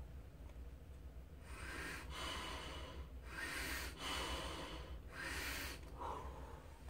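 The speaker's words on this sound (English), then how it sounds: "I breathe in and out." Breathing in and out through a reservoir bag, three long airy broadband breaths spaced about a second apart, close and fairly loud over a low steady background.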